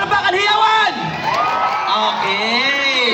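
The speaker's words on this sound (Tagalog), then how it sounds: "Okay, Team Bube, palakpakan hiyawan!" A team group cheers and shouts together, loud whooping and high-pitched yelling voices rising and falling in a continuous crowd roar, with little sign of clapping beneath it.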